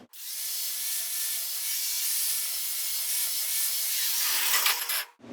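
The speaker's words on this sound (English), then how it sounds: "All I'm doing there is essentially running the flap disc over until both pieces of metal kind of get shiny." A flap disc on a power grinder works across a steel seam on a Triumph Spitfire body under restoration, giving a steady, close, continuous abrasive whine with a slight wavering hum that runs the whole time, then cuts off sharply at the end.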